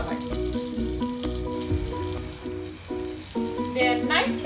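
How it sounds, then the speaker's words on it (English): Pointed gourd (parwal) pieces frying in a pan give a steady, soft sizzle, half buried under louder background music, with no talking. "Mix it and let them fry for a while."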